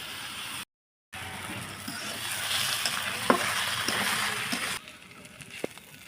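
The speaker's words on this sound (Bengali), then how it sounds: "4-5টা শুকনো মরিচ ভাজে নিব। এখন এই যে রসুন দিয়ে দিব" Greens frying and being stirred in a pot with garlic and 4-5 dried chilies, a steady close sizzle with occasional scrapes of stirring, after a brief silent gap.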